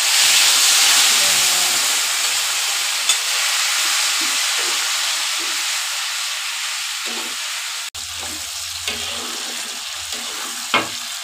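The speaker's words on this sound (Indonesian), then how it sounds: "Dan langsung kita masukin cabai ya, cabai yang kita ulek tadi langsung kita goreng aja." Ground chili paste frying in hot oil gives a loud, continuous sizzle and hiss throughout, with a few faint clinks of stirring and no talking.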